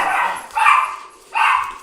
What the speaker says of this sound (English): Someone came in, so the dogs go crazy.